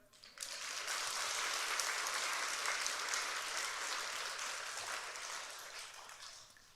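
A church congregation applauds during a Sunday service, a dense, steady wash of clapping that swells quickly and holds evenly for several seconds before slowly thinning.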